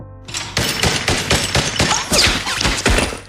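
Gunfire in a dramatic movie scene, a rapid series of loud shots and impacts cracking over a busy, dense soundtrack.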